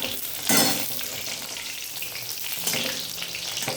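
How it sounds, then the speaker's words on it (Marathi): Crushed garlic and green chillies hit hot oil in a pan, bursting into a loud hiss that settles into a steady close sizzle, with a second surge near the end as they are stirred. "तुम्ही लसणासोबतच मिरच्या चेचून घ्यायच्या आणि तेलातच टाकायच्या."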